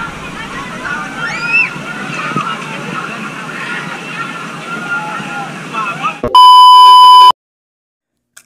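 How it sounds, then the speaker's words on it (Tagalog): Cold mountain water runs and sloshes into a resort pool at Balete Falls, a constant close wash of flowing water. A loud electronic beep tone cuts in near the end, followed by silence. "At meron din pala sila ditong running water na mula sa bundok na napakalamig ng tubig"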